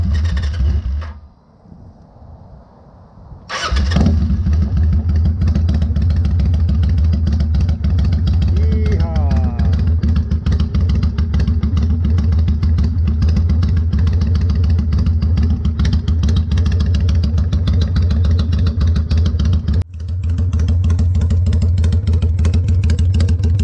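A Kawasaki VN800 bobber motorcycle starts up after a fuel filter install and carburetor work, cranking briefly then catching into a loud, steady, close rumbling idle that runs on with a short stumble near the end.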